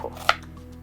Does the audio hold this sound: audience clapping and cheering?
no